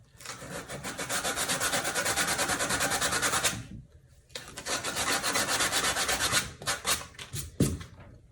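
Hand sanding of a foam core shoe sole: a close, continuous rhythmic rasping of quick back-and-forth strokes, pausing briefly, then resuming with a run of strokes before shorter, irregular scrubs at the end.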